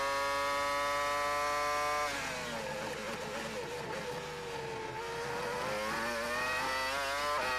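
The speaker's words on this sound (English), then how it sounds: "the Mercedes V10 engine working hard in the back of the McLaren" A Mercedes V10 engine in a McLaren Formula 1 car at the 2002 Canadian Grand Prix screams continuously, loud and near, its piercing pitch dropping sharply on a lift and then climbing back up as it accelerates.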